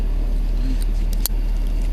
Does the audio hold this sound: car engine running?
yes